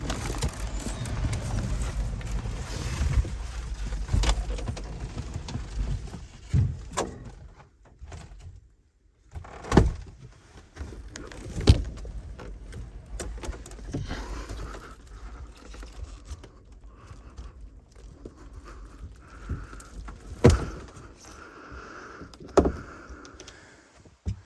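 A pop-up truck camper roof being raised, with a run of scattered knocks, clunks and sliding thumps from the mechanism, fairly close, punctuated by sharper bangs and brief quiet gaps.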